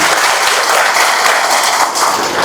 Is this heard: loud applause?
yes